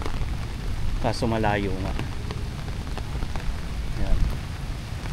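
Steady rain falls on surfaces outside an ancestral house in Daet, Camarines Norte, a constant hissing patter throughout while a person talks briefly over it.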